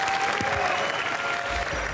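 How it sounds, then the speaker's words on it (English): An audience applauds two drivers at the GT World Series 2024 World Finals, a brief burst of clapping over a steady background hum with a faint tonal whine. "Give them a round of applause."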